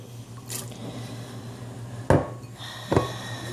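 Chopped celery is tipped into a pot of cold chicken noodle soup in two short, wet plops and rattles against the pot, over a low steady background hum.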